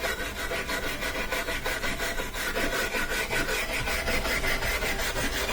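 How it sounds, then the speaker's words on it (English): Wire brush scrubbing leftover felt off an old front bearing from a Frigidaire Gallery dryer, a dense, continuous scratchy rasp of quick strokes, loud and close, with no voices. "You could also use a wire brush."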